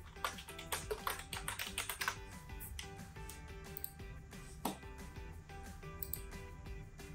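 Typing on a computer keyboard while entering text into a report, heard as a quick, irregular run of close key clicks, louder at the start and continuing throughout on its own.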